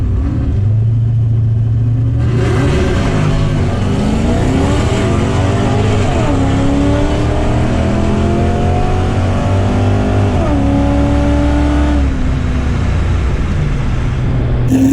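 A Foxbody car with a 5.3 LS engine makes a drag strip pass, its loud, close engine roaring continuously as it revs and accelerates through rising gear pulls, with brief shifts between them.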